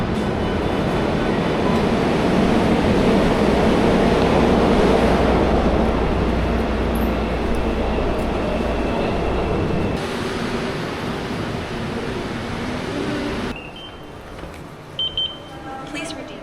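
A subway train roars and rumbles loudly through a station in Seoul, South Korea, then the noise drops off, leaving quieter ambience with a few faint beeps.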